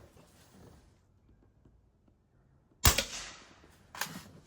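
A Crosman Vapor Max pump air rifle fires after ten pumps, giving one loud, sharp crack after near silence, followed about a second later by a fainter second impact or snap.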